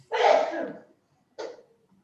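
A single close, forceful sneeze bursts out and is followed by a shorter second exhale, heard during an online webinar.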